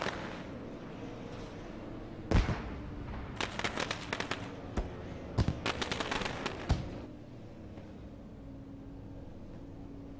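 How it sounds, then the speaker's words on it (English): Fireworks at the end of a sim racing video game broadcast: several sharp bursts and crackling clusters pop over a low background hum, moderately loud and spaced irregularly, then fading to quiet. "Fireworks in the air."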